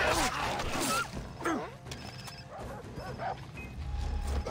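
A dog in the video game Far Cry 3 barks and whimpers in repeated yelps and whines over game noise, loud and close through the first half, then fainter.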